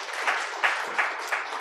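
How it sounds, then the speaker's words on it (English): Audience applause at a manufacturing and MSME conclave, brief rhythmic clapping in a few soft bursts, fairly close and without talk. "Let us have a big round of applause for Mr. Amal Chitnis"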